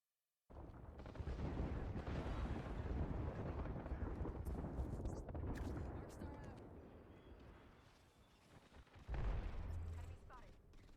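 Bangalore's ultimate artillery strike in the video game Apex Legends: a sustained rumbling barrage of booms and rolling blasts that fades gradually, then swells again near the end, with no talking.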